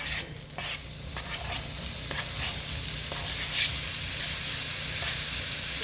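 Diced pork dropped into a pan of sautéed onion, with a steady close sizzle and frying crackle and occasional stirring scrapes throughout.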